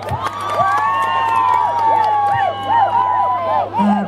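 A crowd cheers and shouts at a maskandi stage show by Shwi Nomtekhala at Buyafuthi Hostel, with loud, continuous whoops and whistling rising over the crowd noise for the whole stretch.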